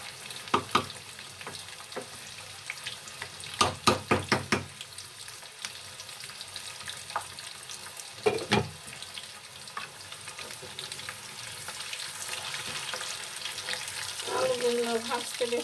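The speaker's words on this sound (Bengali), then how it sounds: "আলুগুলো ভাজতে বেশ সময় লাগবে," Thick-cut potatoes frying in a pan at home, a steady soft sizzle with sharp clattering stirs and scrapes breaking through, plus a brief watery splash near the end.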